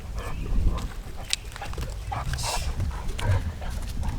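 Dogs shuffle and snuffle close by in a yard during a chainsaw cold start, with scattered scrabbling, panting and a soft whimper, fairly loud and continuous throughout, and no talking.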